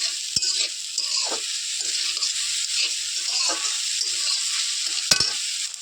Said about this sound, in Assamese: অকণমান মই লৰাই থাকোঁ। চেনিটো মিলি যাবলৈ দি দিছোঁ।